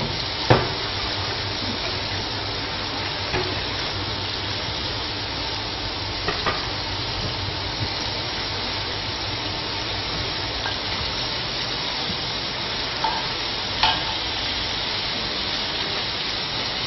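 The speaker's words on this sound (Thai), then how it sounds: "เดี๋ยวเราทอดปลาให้เสร็จก่อนนะคะ" Fish frying in hot oil, a loud, dense, continuous sizzle and crackle held at the same level throughout, with a few sharp pops and utensil clicks; no one speaks.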